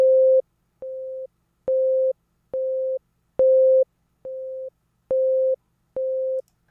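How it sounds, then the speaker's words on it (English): A steady mid-pitched sine wave test tone beeps on and off eight times in an even rhythm, each pulse about half a second, some louder than others. "a single tone sine wave that's playing repeatedly at different volumes"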